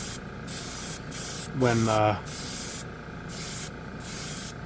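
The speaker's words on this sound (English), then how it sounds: "Now the compressor's running." An airbrush compressor hisses steadily in short bursts of spray that start and stop, and a brief voiced sound cuts across it partway through.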